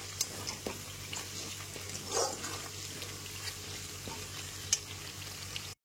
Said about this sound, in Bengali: চিনি আর লবণটাকে খুব ভালো করে এখানে মিশিয়ে নিতে হবে।